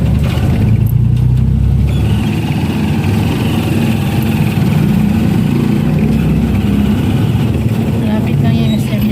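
A motorized tricycle's engine drones steadily and loudly during a ride to a mall, a continuous low rumble with wind noise that holds throughout without any clear revving.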